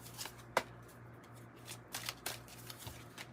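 Oracle and angel cards being shuffled by hand, with a sharp riffle snap near the start and several softer shuffling bursts after it over a low steady hum, close and quiet.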